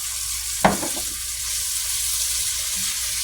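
Minced garlic sizzling in a soup pot, a bright steady hiss with a sharp crackling burst near the start as it hits the hot fat, continuing evenly and close.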